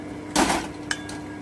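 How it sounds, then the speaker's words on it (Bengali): A metal lid is lifted off a cooking pot of bitter gourd and potato with hilsa fish head, a short clattering scrape followed by a small clink, close and brief. "আমি 5 মিনিট পরে একটু ঢাকাটা উঠিয়ে নিচ্ছি।"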